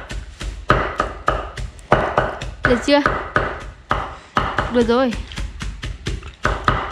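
Rhythmic knife chopping of vegetables for pig feed on a board, quick sharp close taps in an even beat, with two people talking briefly over it.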